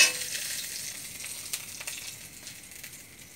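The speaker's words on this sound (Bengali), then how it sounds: "মাংসটা ফোড়ন দিয়ে দেবো। তেজপাতা দিয়ে দিয়েছি, লঙ্কা দিয়ে দিয়েছি।" Chicken meat being tempered in hot oil with bay leaf and chilli, giving a steady close hiss of frying that slowly fades, with a few soft stirring scrapes.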